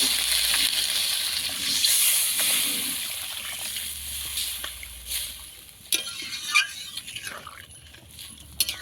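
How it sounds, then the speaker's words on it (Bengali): Water poured into a pan of tengra fish curry with potato and peas, a broad hissing splash and slosh over a simmering sizzle, fairly close, settling into softer bubbling and a few clinks. "এবার জল দিয়ে দেবো"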